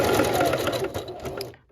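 A sewing machine runs fast and close, stitching a seam on a T-shirt baby quilt in a steady mechanical chatter, then slows and stops near the end.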